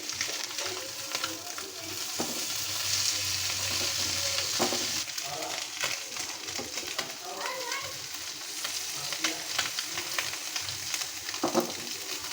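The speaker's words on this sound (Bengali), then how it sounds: "মাছটা আমার একটু ভাজা হয়ে গেছে, আমি দিয়ে দিব।" Chanda fish sizzle in hot oil, giving a steady loud crackle with occasional stirring clatter and faint bird calls behind.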